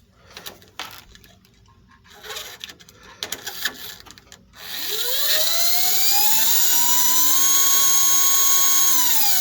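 An Aurora AFX slot car motor, driven through a 1970s 45-ohm AFX controller, whines up from a quiet start after some faint handling noises, then holds a loud, steady high-pitched drone with rising pitch as the throttle opens.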